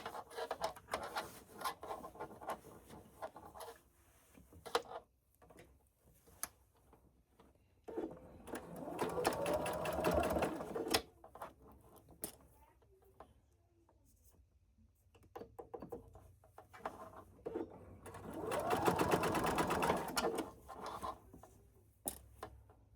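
A sewing machine back stitches a simple fabric basket pattern, running in two short close bursts of rapid rhythmic clatter, with quieter handling and rustling between them.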